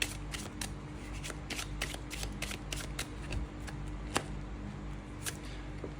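Tarot cards shuffled by hand close up, a steady run of soft riffling flutters and snaps heard alone, with no talk.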